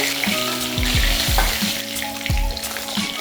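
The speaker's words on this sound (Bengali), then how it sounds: "এই তেলের মধ্যে আলুটা ভেজে নিচ্ছি" Parboiled potato pieces sizzle steadily in hot oil, with a few soft knocks and scrapes of stirring in the pan.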